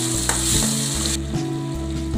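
Ground tomato paste frying in a pan for a Tamil mushroom fry, giving a loud, steady, close sizzle with rhythmic stirring scrapes throughout and no talking.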